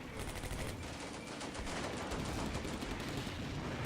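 Combat Mission Beyond Overlord wargame battle audio: a dense, continuous roar of artillery and rattling gunfire with constant overlapping bursts and rumble, loud and unbroken, no talking.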